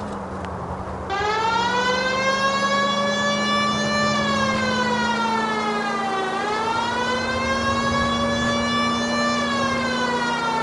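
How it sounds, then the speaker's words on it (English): Police car siren in the 1940s Los Angeles game LA Noire, wailing loudly and continuously with a rising and falling pitch over a steady engine drone, close and with no voices. "I've always found the siren useful in situations like this."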